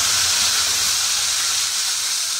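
Ground spices, with cumin, sizzling loudly in hot oil in a pan while kadhi is being cooked, a steady, close, bright hiss that barely changes throughout.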